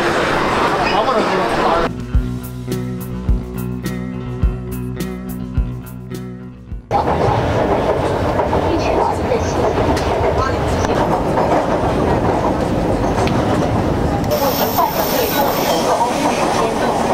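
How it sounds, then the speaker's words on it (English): Shanghai metro train rumbling past in the distance near railway carriage sidings, a broad continuous rumble with a steady rail hum that rises and holds for most of the clip amid city background noise. "rumble of a metro train in the distance"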